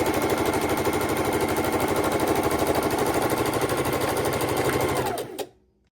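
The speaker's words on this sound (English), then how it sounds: "Make sure the seams are laying proper, and sew my 1/4 inch." A sewing machine stitches a quarter-inch seam on quilt pieces, a loud, close, rapid even rattle of needle strokes running steadily for about five seconds before stopping abruptly, alone without talk.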